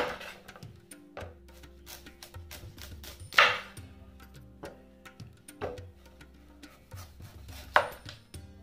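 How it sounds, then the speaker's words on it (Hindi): A knife chops through a hard butternut squash on a cutting board, cutting it into thin slices with irregular, sharp clicking knocks and occasional louder thuds, heard up close with no talk. "तब तक हम काट देते हैं बटर नट स्कॉच"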